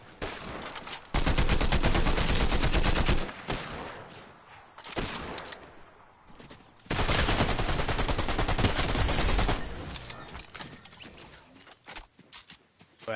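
Rapid, dense bursts of gunfire from a hand cannon in a Fortnite match, with two long loud runs of shots separated by quieter stretches and scattered single pops.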